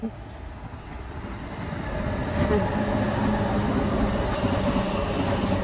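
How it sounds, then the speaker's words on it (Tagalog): A train approaching along a railway line in Japan, a steady low rumble that grows gradually louder and stays broad and continuous, heard outdoors near the tracks with no talk. "Train is coming."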